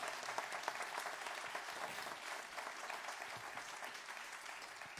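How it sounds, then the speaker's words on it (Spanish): Audience applause for a theatre's technical crew of lighting and sound technicians at a live evening show, a steady sustained wash of many hands clapping at moderate distance throughout. "Fuerte aplauso para ellos."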